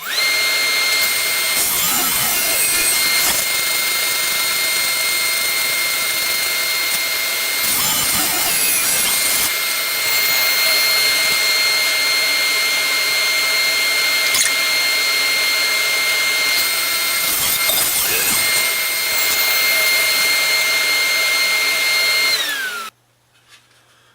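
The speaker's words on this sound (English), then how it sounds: "we're going to cut this to width of 16 inches. I'm going to cut here and then cut here" A saw cuts a board down to a 16-inch width for a ball setter project, making a loud, steady whine that runs continuously with a few brief dips before stopping abruptly near the end.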